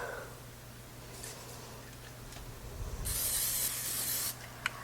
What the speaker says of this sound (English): So we're going to lightly spray it with some cooking spray.